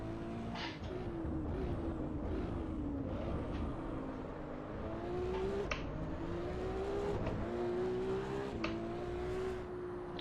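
Race car engine in the Assetto Corsa Evo driving game, a steady drone whose pitch falls and climbs repeatedly as the driver brakes and downshifts into corners, continuous and fairly loud.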